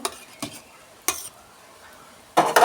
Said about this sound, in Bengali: এবার দিয়ে দেবো একটুখানি 1 চামচ ঘি, একটু নাড়াচাড়া করে নেব।